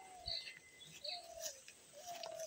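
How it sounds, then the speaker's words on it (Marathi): Several short bird calls, rising chirps and whistled notes repeating every second or so, fairly close, against a faint outdoor background during the monsoon season in Konkan. "आणि पक्ष्यांचा तुम्हाला आवाजसुद्धा येईल."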